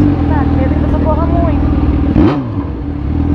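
A motorcycle engine idles and revs up close, its steady growl rising briefly, while people chatter nearby.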